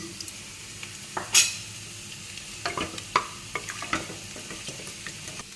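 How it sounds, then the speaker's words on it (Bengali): Whole spices (star anise, cloves and cinnamon) hitting hot oil for tempering a potato biryani, a low sizzle broken by a sharp clatter and several scattered utensil clicks and scrapes against the pot. "এই যে এইটা ফোড়ন দেব স্টার লবঙ্গ দারচিনি"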